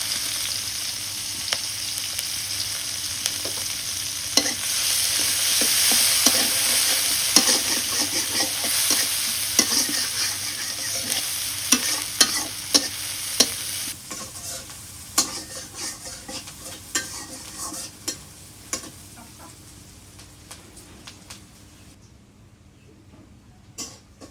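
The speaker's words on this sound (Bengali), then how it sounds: "পেঁয়াজ কুচি দিয়ে দিই, কাঁচামরিচ খালি," Chopped onion and green chili sizzle in a hot pan as a spoon stirs and scrapes, a steady frying hiss with frequent clicking taps, fading quieter toward the end.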